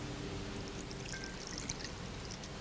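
Tamarind water is strained by pouring, giving a faint, steady trickle and stream of liquid with soft, sparse splashes and no voices.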